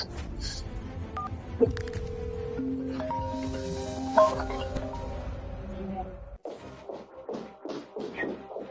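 A quick run of electronic keypad tones, several steady beeps of different pitch one after another, with faint room noise and a voice near the end.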